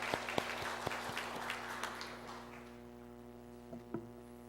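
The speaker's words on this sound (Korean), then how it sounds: "하나님께 영광의 박수를 올려드립니다." Church congregation applauding together, a soft steady patter of many hands clapping at moderate distance over a low electrical hum, thinning out and fading toward the end.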